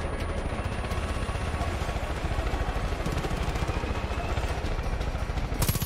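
An enemy helicopter in the video game Far Cry 5 gives a steady, dense rotor chop and engine roar that holds evenly throughout, with clattering game noise over it and no one talking.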